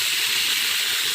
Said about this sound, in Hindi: ये मैं सिरका डालूंगी